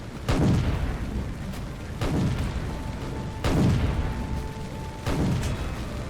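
Heavy naval guns firing at a ship in a World War II battleship video game: four deep booming shots, roughly every one and a half seconds, each rolling off into a low rumble.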